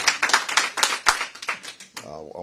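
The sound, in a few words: audience clapping at town hall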